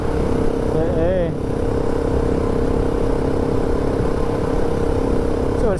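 A KTM 690 Enduro R single-cylinder motorcycle engine drones steadily while riding, loud and constant with wind rumble throughout.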